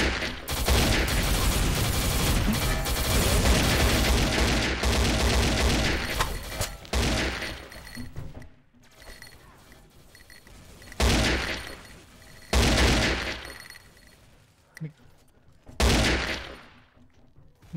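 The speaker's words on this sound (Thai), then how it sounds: "ให้ยิงทีละ3นัดครับจะพยายามดึงสติไว้ให้ยิงทีละ3นัด" Bursts of AK rifle fire in the shooter game XSHOT: a dense, loud volley for about seven seconds, then several separate short bursts with brief gaps between them.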